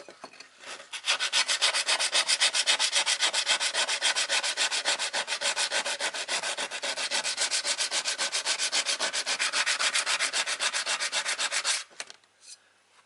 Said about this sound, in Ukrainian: Зараз попробую наждачною бумагою стерти його.